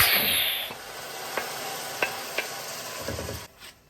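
Garlic and shallot hit a hot pan with a bright hissing sizzle, followed by a few sharp taps of stirring and then a duller frying hiss near the end.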